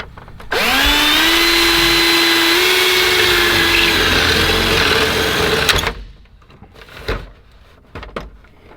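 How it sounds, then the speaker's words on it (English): A power tool cuts through plastic during a Mustang turbo build, giving a loud, sustained high whine that runs for about five seconds and then stops abruptly, followed by a few quieter clunks. "Think you can cut the plastic?"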